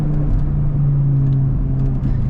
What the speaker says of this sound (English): just the unbelievable power and torque of this engine